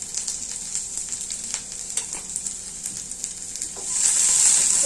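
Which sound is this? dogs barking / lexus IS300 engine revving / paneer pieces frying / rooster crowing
paneer pieces frying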